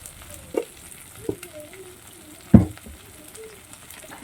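Ginger and garlic paste fries in oil in a pan for a chili fish dish: a low, faint sizzle under a few isolated clunks of a spoon, one louder knock near the middle, close and without speech.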